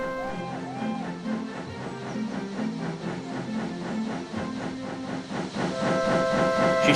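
Continuous steam hiss from a steam locomotive at a railway junction, steady and fairly loud throughout, with rumbling rail noise and faint whistle-like tones layered underneath, no talking.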